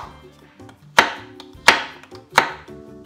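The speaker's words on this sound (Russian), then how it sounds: "картофель нарезаю некрупными кубиками" Three sharp knife chops strike a cutting board at a steady pace as potatoes are diced into small cubes for soup, close and clear, with soft background sound between them.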